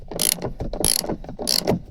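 Socket ratchet clicking in three quick bursts while tightening a screw during seatbelt installation in a Nissan Patrol Y61, close and crisp with no talk.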